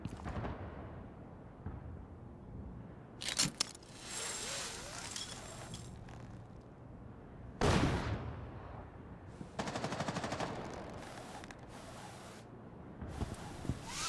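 A frag grenade bursts in the mobile shooter game Rainbow Six Mobile amid bursts of gunfire, with sharp loud blasts and crackling rattles recurring across the scene.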